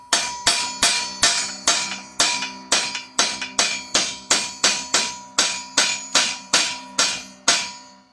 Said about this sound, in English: We may have to take and tap it with a hammer just to get it back lined up.